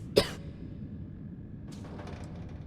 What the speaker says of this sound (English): cough doesn't sound good at all.